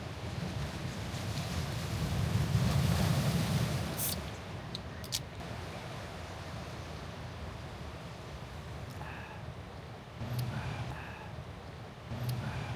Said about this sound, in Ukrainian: слухати шум моря чи океану верніше